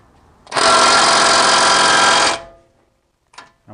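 A power tool, likely an impact gun, buzzes in one loud, close burst of about two seconds while suspension bolts come off a Toyota 4Runner, then stops, followed by a faint clink.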